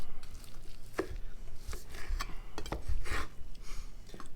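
Knife slicing through a smoked beef chuck roast with a bone in it, giving a series of close, irregular cutting and scraping strokes on a board with a steady low hum underneath.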